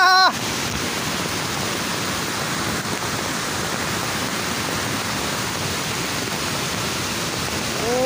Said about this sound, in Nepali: लेदो खस्यो है पहिरो झऱ्यो पहिरो अझै झर्दैछ